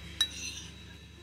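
A single sharp clink of a fork against a dessert plate while eating cheesecake, close and fairly quiet, followed by a soft ringing tail and low room noise, with no talking.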